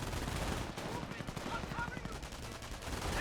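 Gunfire in the WWII strategy game Company of Heroes, bursts of small-arms and machine-gun fire crackling at moderate distance, with a voice talking faintly underneath.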